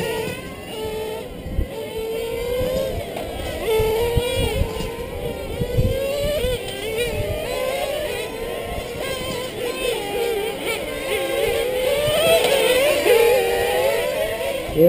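On-road racing cars at the 2012 RRR Annual Summer Challenge scream down the straightaway, their high-pitched engines whining and rising together as they close in and hold a loud, continuous pitch.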